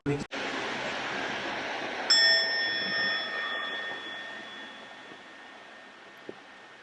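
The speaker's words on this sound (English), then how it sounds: "every time we will hear the sound of the bell, we'll be silent" A bell is struck once as a signal for silence in a school setting, a clear ringing tone that sustains and slowly fades over several seconds against a hushed room.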